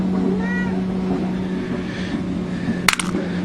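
A cat meows near a workbench where chainsaw and weedeater pull starters are being repaired, a couple of short rising calls over a steady background hum, followed by a sharp metallic clink.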